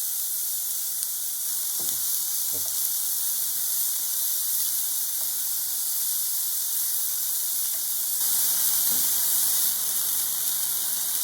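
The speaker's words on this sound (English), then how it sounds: "add the onion and fry." Onion and chicken fry in a pan with a constant sizzling hiss, broken by a few stirring knocks and scrapes of a utensil.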